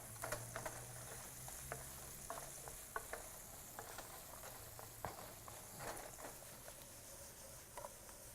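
Celery and carrots sauté in a home kitchen pan, a soft steady sizzle with scattered clicks and light scraping of stirring, faint and continuous throughout.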